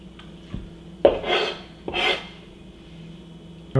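A knife cutting cooked, soft squid into bite-sized pieces on a board, a few distinct cuts with scraping drags between them, close and moderately loud.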